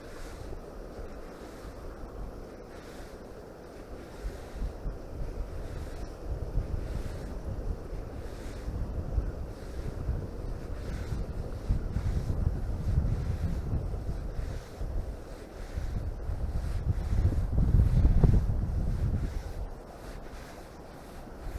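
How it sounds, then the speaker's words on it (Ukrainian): Wind gusts blowing over a river during spring pike spinning, a steady roaring rush against the microphone that swells and fades, loudest near the end, with no talking. "шнур вітром зносить."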